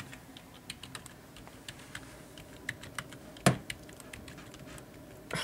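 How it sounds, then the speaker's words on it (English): Someone types on a computer keyboard nearby, irregular soft key clicks with a few louder strikes, quiet room, no speech. "What are you typing?"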